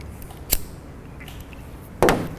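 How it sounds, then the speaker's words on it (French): Sterilized pruning shears cut a cymbidium orchid's flower stalk: two sharp snips about one and a half seconds apart, the second heavier and crunchier, set against low steady background noise. "Ou alors, comme toujours, utilisez votre sécateur bien stérilisé."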